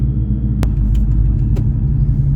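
A 2003 Ford Mustang Cobra engine runs at a steady low rumble while driving, close and loud, with a couple of brief sharp clicks and no talk.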